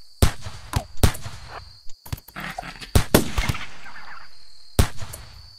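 Sharp isolated gunshots fired at a squirrel in the video game RimWorld, several separate cracks spaced irregularly over a few seconds, loud and close with quiet gaps between.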